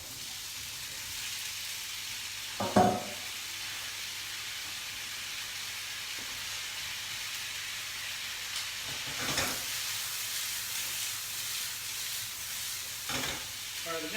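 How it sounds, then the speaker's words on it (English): Chilli, diced onion and potatoes fry in a hot pan, giving a steady soft sizzle and hiss broken by a few louder stirring scrapes and spits. "we've got the chilli is sizzling away"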